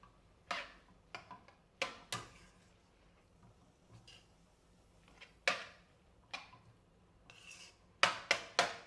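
Stir-fry noodles are tossed with vegetables and sauce in a pan, giving sparse, irregular utensil clinks and scrapes, close but fairly quiet, with a quick cluster of clatters near the end.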